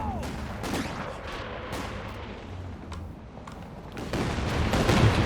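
A Katyusha rocket barrage thunders in Company of Heroes 2 during a 2v2 match, with a run of sharp blasts and booming impacts layered over a continuous rumble of battle, getting heavier toward the end.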